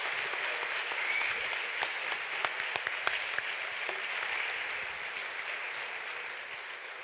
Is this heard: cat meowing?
no